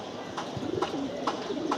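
Domestic pigeons coo in a repeated, soft, rolling rhythm, several calls close by over a steady low background hum; the birds are kept in a cage while being prepared for pairing.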